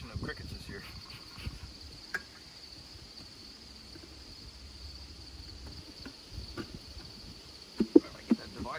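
Faint, continuous high chirping from crickets during a heavy seasonal infestation, heard outdoors. A thin steady trill runs throughout, with soft handling knocks and a few sharper taps toward the end.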